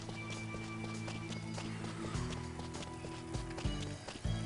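Hooves pound as a horse gallops in the video game Wild ARMs 4, a quick rhythmic clip-clop running throughout, moderately loud and layered with game music tones.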